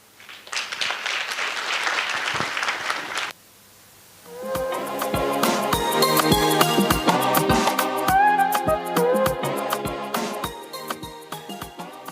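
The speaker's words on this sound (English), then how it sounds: "Kindly give her another applause." An audience claps loudly for a few seconds, then falls briefly silent before a rhythmic, tonal passage with sharp claps takes over.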